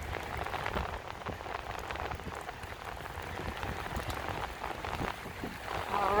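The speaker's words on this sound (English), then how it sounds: "I can't stay too long in the rain here" Steady rain falls on pavement on a downtown Chicago street in Streeterville in February, a dense, even patter of drops all around, with no voices.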